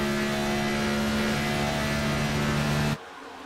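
Stock car engine in a racing video game at Chicagoland Speedway keeps running with a steady, loud droning hum and fixed tonal whine, then cuts off abruptly near the end.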